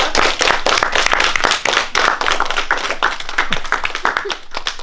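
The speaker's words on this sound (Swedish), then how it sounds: "En applåd." Close, loud clapping for the Skol-Idol 2018 finalists, a small group's sharp individual hand claps in a quick irregular patter throughout.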